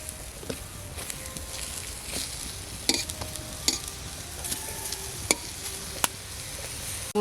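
Eggplant slices dry-frying in a pan without oil give a soft continuous sizzle with faint stirring scrapes and a few sharp clicks scattered through, fairly quiet and close.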